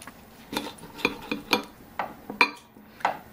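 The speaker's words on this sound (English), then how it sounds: "They've been washed, and I'm going to quarter them." A knife cuts Campari tomatoes into quarters on a board, sharp knocks and light clinks landing roughly every half second, close and moderately loud, with no talking.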